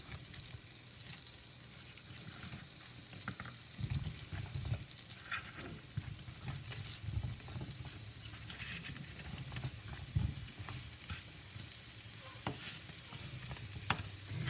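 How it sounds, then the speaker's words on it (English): Pears cooking in three tablespoons of butter in a large 14.5-inch pan over medium heat, a steady sizzle and frying crackle with occasional stirring scrapes and clatters, close and continuous, without talk. "I'm heating over medium heat 3 tablespoons of butter, and now I'm going to place in the pears, and I'm going to cook them until tender"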